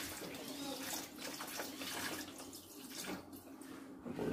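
Broth pours steadily into a Thermomix for a zucchini and leek cream soup, a continuous close splashing stream of liquid that lasts throughout.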